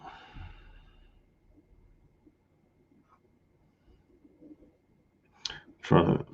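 Keys on a keyboard tapped in a quiet room, a few soft clicks early on, then two sharper, louder bursts of typing near the end.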